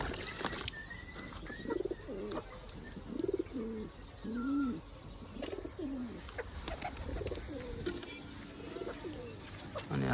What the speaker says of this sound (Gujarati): જુઓ ચલો બંને કબૂતર આવી ગયા.